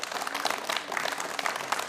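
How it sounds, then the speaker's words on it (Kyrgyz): An audience applauds with steady, moderately faint clapping that stays even and continuous throughout, with no voices over it. "Бир кол чаап коюңуздарчы гана."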